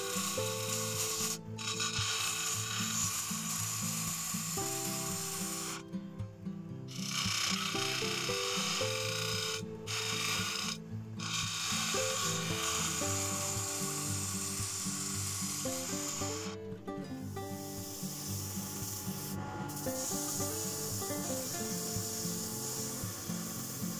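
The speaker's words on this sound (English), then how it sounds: "I just bought this new sander" An electric sander grinds steadily against wood during woodturning, a continuous buzzing rasp with brief pauses and shifts in pitch as it moves.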